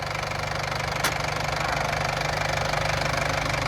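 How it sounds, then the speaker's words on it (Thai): A 1996 Isuzu TFR pickup with a 90 hp engine idles with a steady, close, loud diesel clatter and a rhythmic knock, heard alone throughout. "รถจอดแป๊บเดียวแล้วก็สตาร์ทอีกรอบนึง"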